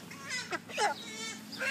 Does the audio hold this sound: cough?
no